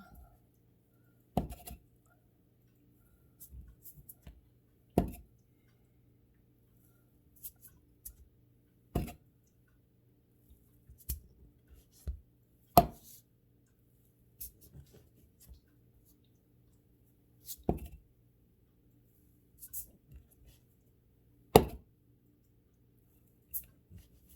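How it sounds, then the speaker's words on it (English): Yeast biscuits being cut from dough by hand, a series of soft, separate thumps and presses spaced a few seconds apart in an otherwise quiet room, with light scraping and clicks between them. "So then you just start cutting your biscuits out."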